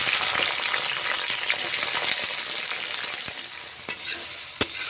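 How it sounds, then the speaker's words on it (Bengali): Ridge gourd pieces frying in hot mustard oil, a dense loud hiss and crackle throughout, with occasional sharp spatula knocks against the pan near the end. "ঝিঙেগুলো ভেজে নিচ্ছি সর্ষের তেলে, গরম তেলে নেড়ে চেড়ে ভেজে নিচ্ছি ঝিঙেগুলো।"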